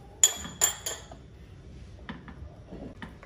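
A spoon clinks against a bowl while mayonnaise and ketchup are mixed into a sandwich dressing, with a couple of sharp taps followed by softer scattered scrapes and knocks.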